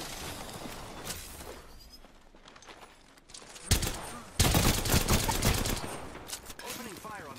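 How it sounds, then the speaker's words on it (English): Gunfire in the video game Apex Legends, several dense bursts of rapid shots at close range that grow louder partway through, mixed with game movement sounds and occasional talk. "Opening fire on the enemy."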